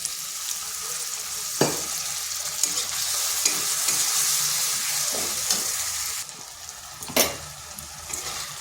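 Spice masala with Kashmiri chilli powder sautéing in a pan for a soybean and chana dal dish, a steady loud sizzle broken by sharp scraping strokes of a spatula every second or two.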